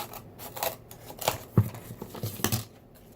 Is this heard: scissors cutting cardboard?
yes